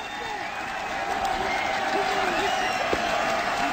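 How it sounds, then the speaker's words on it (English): Football crowd noise fills a stadium during a 2008 Oregon at Purdue college game after a touchdown, a steady roar of cheering and applause that swells slightly and holds, with a commentator talking over it. "Now the Duck fans have something to cheer about."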